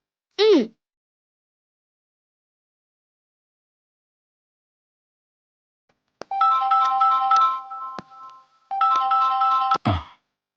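A phone ringing while a call is placed: after a long silence, two bursts of a bright, repeating ringtone play with a short pause between them, close and clear.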